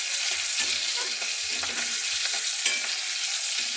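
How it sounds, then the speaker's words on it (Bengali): Green chilies fry in hot oil, a close, even sizzle broken by irregular scraping and stirring knocks from a utensil in the pan, with no talking. "লঙ্কাটা ভাজা হোক।"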